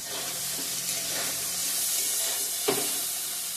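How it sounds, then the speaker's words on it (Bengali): Paneer frying in hot oil for a curry, giving a steady, even sizzle throughout with a few faint scrapes of stirring, one sharper near the end. "পনিরটা ভাজা হয়ে গেছে, হালকা লাল লাল করে ভেজে নিয়েছি"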